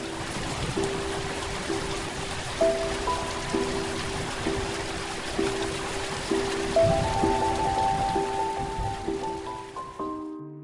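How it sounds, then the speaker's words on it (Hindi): Heavy rain and hail pour down at Baijnath station in Himachal Pradesh, a steady dense hiss of falling water filling the scene, with faint tonal hums running through it and no talk. "जहां बहुत तेज बारिश और ओले गिरने लगे"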